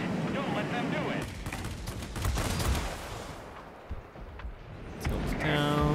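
Twin 30mm cannons firing on a Ki-162-III aircraft in World of Warplanes, dense loud bursts of rapid gunfire over a continuous engine roar, fading briefly before a tonal chime.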